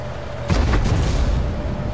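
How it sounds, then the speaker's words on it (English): A tank gun fires in World of Tanks, a sudden loud boom at about half a second that rolls into a sustained rumbling tail. "And somebody just fired."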